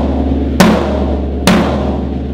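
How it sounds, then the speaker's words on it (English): Floor tom drum without an O-ring struck twice at an even pace, each hit a sharp attack followed by a long, open low ring that sustains steadily, heard alone and close. "Here's the sound of the floor tom without the O-ring."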